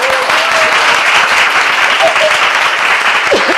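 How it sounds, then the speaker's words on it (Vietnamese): An audience bursts into loud, sustained applause during a talk, dense, close clapping filling the room evenly for a few seconds with no voices on top. "Cho cô lại tràng pháo tay."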